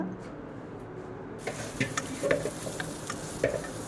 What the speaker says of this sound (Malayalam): ഇല എല്ലാം ഇടുക നന്നായിട്ട് വഴട്ടുക അതിലേക്ക് ഇഞ്ചി വെളുത്തുള്ളി പേസ്റ്റ്